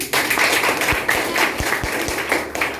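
Audience applause at a motivational seminar, a brief burst of steady clapping from a room full of people, loud and close, lasting a couple of seconds.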